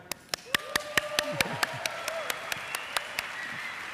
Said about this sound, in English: again, a big applause for Maggie